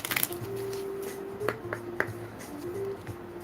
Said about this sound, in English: A couple more shuffles